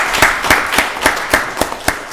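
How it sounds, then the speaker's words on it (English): A few people at a county board of commissioners work session clap in a loose, steady rhythm, sparse, individual claps rather than a full ovation. "Y'all give her a round of applause."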